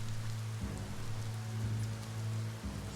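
Rain falls steadily in the video game Biomutant, a dense, even hiss over a low droning hum that shifts slightly in pitch, with no talking.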